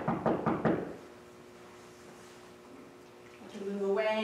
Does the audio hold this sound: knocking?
yes